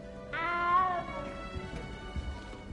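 A little cat in the video game Hogwarts Legacy gives one clear, drawn-out meow near the start, then quiet ambience with faint background movement.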